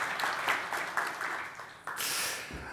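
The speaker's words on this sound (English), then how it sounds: "Oh, I get applause." Audience applause for a speaker opening a tech talk on HPC and AI software: a steady, moderately loud clatter of many hands that dips briefly and then swells again near the end.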